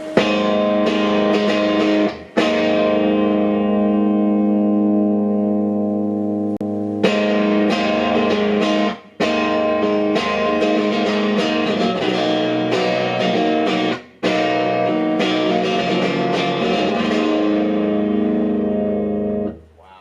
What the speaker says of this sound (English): It's like a dirty, clean rhythm tone. Very stratty.